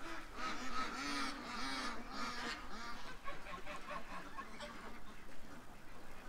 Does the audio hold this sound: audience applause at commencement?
no